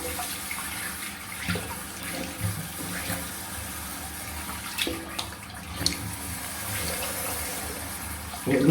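Water running from a tap for rinsing after a shave, a continuous splashing flow close by with small irregular spatters and a louder splash at the end.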